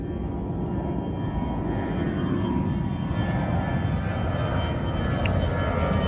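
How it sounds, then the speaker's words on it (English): An airplane passes overhead outdoors, a steady broad engine roar that holds loud and even throughout with no voices. "a plane's coming by"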